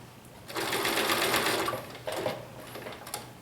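A sewing machine stitches a badge onto a garment, running in a steady whir, pausing briefly, then starting again in shorter bursts close to the listener.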